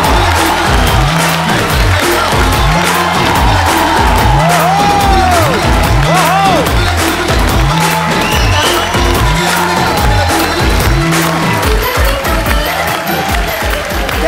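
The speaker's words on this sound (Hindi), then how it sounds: "आप सबकी जोरदार तालियों के बीच में मैं इनवाइट करना चाहूंगा" A studio audience on The Kapil Sharma Show applauds and cheers loudly and continuously, with whoops and shouts over a repeating rhythmic musical pattern.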